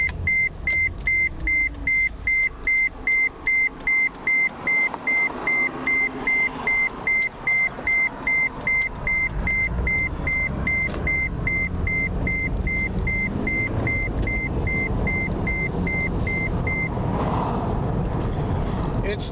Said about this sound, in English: Oh, sorry about the beeping.